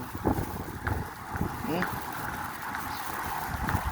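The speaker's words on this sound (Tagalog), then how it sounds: "Ay ngayon po ay malakas talaga ang hangin." Strong wind blowing outdoors during a storm, a steady roar and rumble buffeting the microphone, with faint scattered sounds within it.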